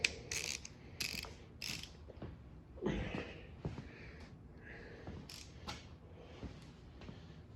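A 3/8 ratchet clicks and creaks on the motor of a Reed-Prentice lathe in a series of uneven ratcheting strokes, close up, with no talk.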